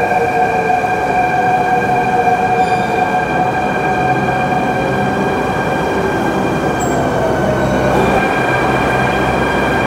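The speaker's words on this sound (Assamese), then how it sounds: "দিল্লী মেট্ৰ' ষ্টেচনত আছোঁ আৰু মেট্ৰ' এখন আহি ৰখিছেহি।" Delhi underground metro train standing at a station platform, its steady electric motor hum and high tonal whine droning continuously, with faint clanks and a brief squeal near the end; no one speaks.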